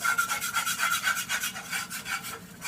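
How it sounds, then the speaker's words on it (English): A utensil scrapes steadily across the bottom of a frying pan to loosen browned chicken bits, a loud, close, rhythmic rasping in repeated back-and-forth strokes with no voice over it. "I am going to scrape the bottom of this pan though,"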